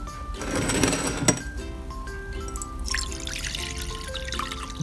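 Water pours and trickles in a preschool classroom, a steady splashing wash that runs throughout with faint tonal sounds in the background.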